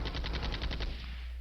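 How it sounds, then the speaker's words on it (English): Rapid burst of tank machine-gun fire in a war video game, about eight evenly spaced sharp shots in quick succession, then a fading tail with no speech. "only with close-in gunfire from the tanks did they surprise him"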